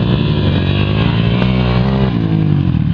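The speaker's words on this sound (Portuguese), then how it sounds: "A moto do Edivaldo é mais potente que aquela outra lá." Edivaldo's motorcycle roars past close by, a loud, continuous engine drone that rises slightly in pitch mid-pass, dense and unbroken for the whole stretch.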